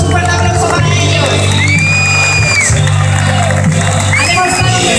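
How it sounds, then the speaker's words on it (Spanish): A crowd cheers and whoops for the champions at the 51st Rally Rías Baixas awards ceremony, a loud, continuous roar of voices over a steady low hum with scattered shouts rising above it. "un fuerte aplauso para ellos"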